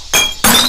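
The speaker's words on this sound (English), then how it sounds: "Classic glass breaking." A beer bottle smashes in the video game Whack The Neighbor with two sharp, bright bursts of breaking glass in quick succession, loud and close.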